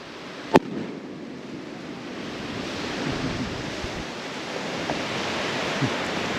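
A single sharp firework bang from a Mississippi Gambler shell goes off early, with a strobing red and green effect, then fades into a steady outdoor hiss with faint distant pops.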